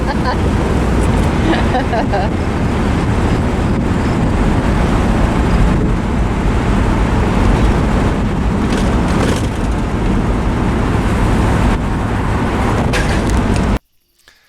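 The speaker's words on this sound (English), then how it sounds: "So here we're riding around talking about old Corvettes, but unfortunately the wind noise was too loud" Wind roars around an open-top 1966 C2 Corvette convertible with a 327 300 hp engine and 4-speed while it drives, a loud unbroken rushing blast with indistinct voices buried in it, ending abruptly near the close.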